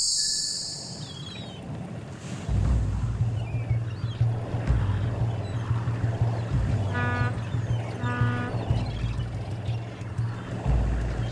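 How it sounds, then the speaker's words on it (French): A fishing boat entering the port of Cloridorme, its steady low engine drone starting after a couple of seconds and running throughout under wind and water noise, with brief faint higher tones partway through. "Dans le port de Cloridorme, un bateau de pêche fait son entrée."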